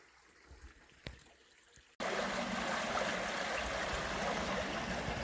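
A bigger river in Irish bogland flows, starting with a quiet stretch and then a loud, steady rushing of water that fills the rest close up.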